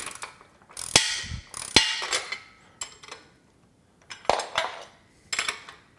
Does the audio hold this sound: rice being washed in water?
no